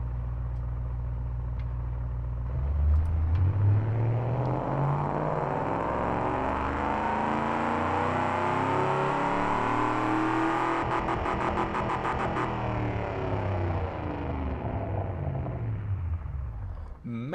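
A simulated car engine from the Automation video game starts up and runs on a test, revving smoothly upward, holding a loud rumbling whir, then winding back down as it settles.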